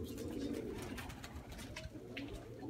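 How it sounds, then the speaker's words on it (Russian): Pigeons coo softly on a rooftop during squeaker training, several low burbling calls repeating close by over faint rustling and background noise, with no talk. "Сейчас взрослая птица выйдет."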